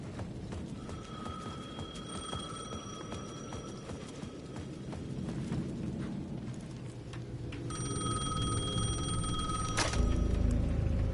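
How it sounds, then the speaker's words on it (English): A payphone at the edge of a plaza rings in Alan Wake 2, an electronic trilling bell heard in spaced bursts over dark ambient game rumble and footsteps, louder near the end. "The payphone at the edge of the plaza was ringing again."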